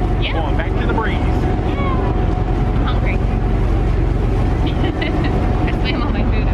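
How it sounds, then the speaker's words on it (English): A loud, steady cruise-ship tender boat engine drones low and constant throughout, heard from the very back of the tender, with faint voices and chatter scattered over the roar. "We're in the very back of the tender. It's real loud."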